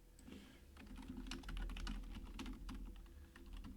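Typing on a computer keyboard while entering an address into an online pre-flight planning map, a steady run of close, crisp key clicks over a low background hum.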